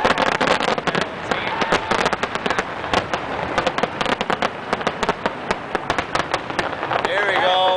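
Dense fireworks burst and crackle in rapid, irregular pops ahead of the Texas Stadium implosion, loud and close, with faint voices beneath and a brief whistling tone near the end.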